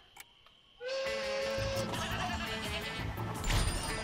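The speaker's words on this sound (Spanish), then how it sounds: "¿Qué le pasa a la cabra?" A goat in Plants vs Zombies Garden Warfare 2 lets out a loud, close bleat after a short quiet lead-in, followed by continued game music and effects.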